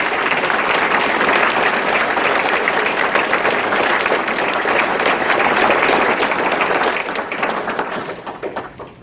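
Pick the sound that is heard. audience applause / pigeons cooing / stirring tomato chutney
audience applause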